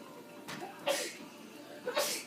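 Two quick sneezes from a girl with a head cold, about a second apart, sharp and fairly close, in an otherwise quiet room.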